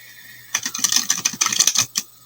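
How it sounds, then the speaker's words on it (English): A deck of oversized tarot cards is riffled and shuffled close by, giving a quick flurry of papery flicks and taps that lasts about a second and a half and is heard alone. "I'm going to try and shuffle the cards."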